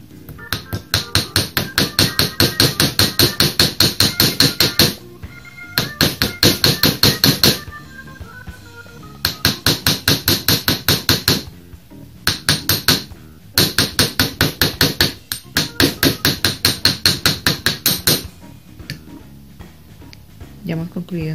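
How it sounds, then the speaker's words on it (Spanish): Sharp metallic hammer strikes on wire against an anvil ring out in rapid bursts of steady blows, pausing briefly between runs, close and loud. "Ya hemos concluido entonces de martillar nuestra pieza."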